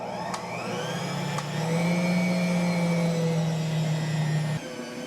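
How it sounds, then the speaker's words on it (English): A stand mixer kneading lemon sweet roll dough at speed 3 gives off a steady motor whine. The pitch rises and holds, with a couple of faint clicks, before it cuts off abruptly near the end. "Once I started my mixer"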